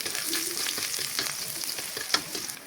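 Garlic sizzles and crackles in a hot pan at the start of cooking ginataang laing, a steady broadband frying hiss with soft stirring scrapes and a brief sharp clink near the end, close and moderately loud.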